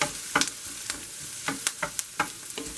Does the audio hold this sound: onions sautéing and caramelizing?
yes